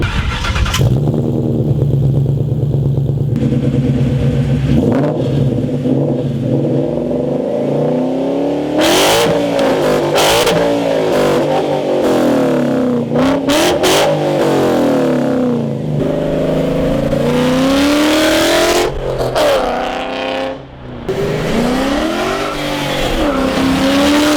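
A 2001 Mustang GT with a swapped Coyote 5.0 V8, BBK long tube headers, a BBK off-road X pipe and stingers fires up and idles with a loping rumble, then barks through a series of sharp, loud revs, close up.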